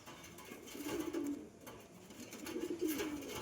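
Teddy and golden pigeons coo in two low, rolling bursts, one near the start and another toward the end, close by and fairly quiet over a soft background hum.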